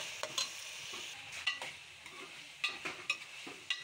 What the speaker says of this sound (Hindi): हल्की आंच पे हमने चिकन को फ्राई करना है घी में।